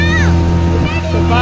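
A motorboat speeds across the reservoir at Malampuzha dam, its engine a loud, steady drone with a constant pitched hum up close. Splashing water and faint voices sit underneath.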